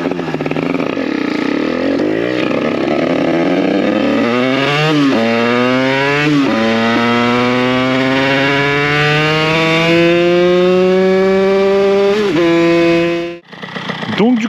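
A small two-stroke 70cc moped engine with a 122 jet revs loud and close, pitch climbing steadily in stepped surges before cutting off abruptly near the end.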